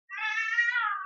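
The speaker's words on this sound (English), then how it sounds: "sometimes cats are going to walk by and make funny noises with their cat toys" House cat carrying a cat toy lets out a single drawn-out, muffled meow, close and clear against silence.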